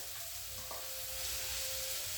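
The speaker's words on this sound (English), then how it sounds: "now I'm going to add it to my onions and my" Salted stewed fish added to a pan of sizzling onions and garlic, giving a steady, close, even frying hiss with a faint thin tone running through it, and no talking.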